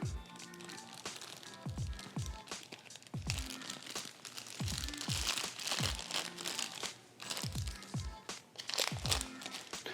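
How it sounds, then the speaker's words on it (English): A Ziploc plastic bag crinkles and rustles steadily as deviled egg filling is spooned in, with soft squishy thumps repeating throughout, close and fairly quiet. "we're gonna fill this Ziploc bag up"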